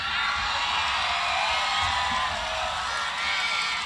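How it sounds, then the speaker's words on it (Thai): A crowd at a political rally in Kabin Buri, Prachinburi, Thailand, shouting and whooping in a dense continuous roar of many voices, loud and steady throughout with no single voice standing out. "เริ่มมีการโวยวายกันแล้ว ข้างหน้า"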